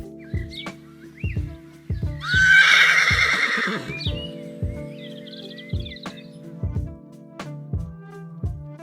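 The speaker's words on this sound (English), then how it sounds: "I said hello to many of the horses in the paddock." Horses in a paddock in the Star Stable Online video game, with a loud drawn-out whinny early on over a steady clip-clop of hooves. Faint bird chirps play in the background.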